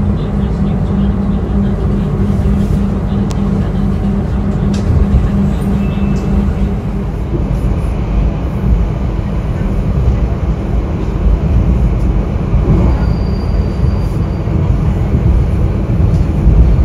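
A Logawa passenger train departing, heard from on board as a loud, continuous low rumble of engine and wheels, with a faint high whine in the background and no clear speech.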